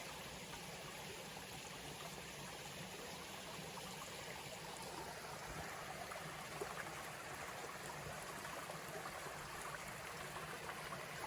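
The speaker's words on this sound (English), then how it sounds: "I'm just going to listen to the brook running." A mountain brook beside the Appalachian Trail runs in a steady, even rush of water, quiet and continuous with no voices over it.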